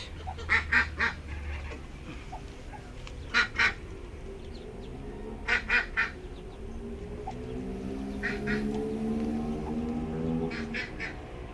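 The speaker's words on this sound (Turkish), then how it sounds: "Amerikana ördeklerimiz." Several American breed ducks quacking in short bursts of two or three calls, fairly close, over a low background hum.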